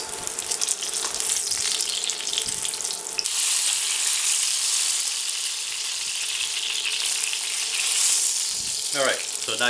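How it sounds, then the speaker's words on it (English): Eggplant slices frying in oil, a loud, steady close-up sizzle and crackle running throughout, with a brief voice near the end. "You fry both sides so they're the same"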